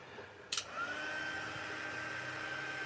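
A click, then a small electric heat embossing tool starts and runs with a steady whirring hiss and a thin high whine, fairly close.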